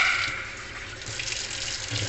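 Purified water runs steadily from a tap into a basin for washing, a continuous close hiss and splash with no talking.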